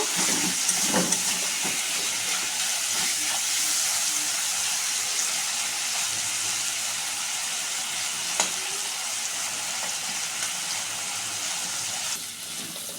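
Prawns frying in a pan of oil for a Bengali prawn malai curry, a steady bright sizzle with crackles and occasional stirring, close and loud throughout with a slight drop near the end.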